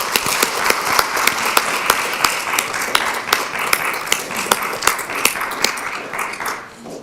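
An audience at a school board of education meeting gives a sustained round of applause, dense close clapping that fades away at the end.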